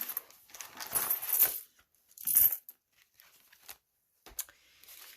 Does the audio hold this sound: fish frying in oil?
no